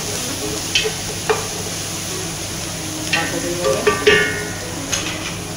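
Chicken being stirred with garlic in a frying pan while cooking chicken kabsa, with a handful of light, scattered spatula scrapes and clicks over a soft, steady sizzle.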